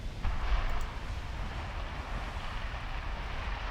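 A torpedo strikes a warship in the naval game Ultimate Admiral Dreadnoughts, a heavy rumbling blast that booms up near the start and then rolls on as a sustained low roar for several seconds with no talking.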